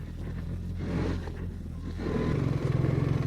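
BMW R 1300 GS Adventure motorcycle rolling along at low speed, its engine a steady, moderately loud rumble that swells slightly with throttle near the end, with no voices.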